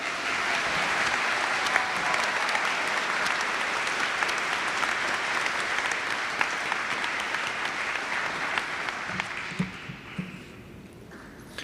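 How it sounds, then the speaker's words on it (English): Graduation ceremony audience applauding, a dense, sustained wash of many hands clapping that holds steady for several seconds before thinning out and fading near the end. "Let's give that group a big round of applause now"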